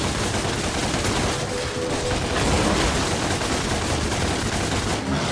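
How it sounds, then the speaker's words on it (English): Gunfire in the Devil May Cry video game, a dense continuous barrage of loud rapid shots and blasts that fills the whole clip without pause. "Now use your gun. Shoot him down."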